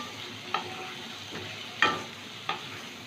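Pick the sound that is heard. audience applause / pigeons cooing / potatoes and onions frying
potatoes and onions frying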